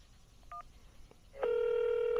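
DTMF tones as a phone number is dialed to reach a pre-foreclosure homeowner: a short keypad beep, then a sustained steady call tone that begins partway through and holds loud to the end.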